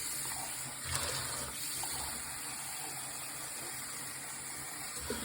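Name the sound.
sink pump pumping water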